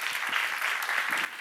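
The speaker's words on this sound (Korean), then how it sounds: "맞으면 박수 한번 쳐봐요" A church seminar congregation breaks into dense, steady applause, many hands clapping together at an even level before it fades slightly near the end.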